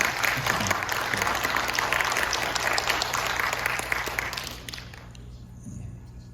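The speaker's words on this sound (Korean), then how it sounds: "결혼식 우리 참석 못했지만 박수로 축하합니다" A church congregation at Sunday worship applauds to congratulate a newlywed couple, a steady dense wash of clapping that fades out toward the end, leaving near silence.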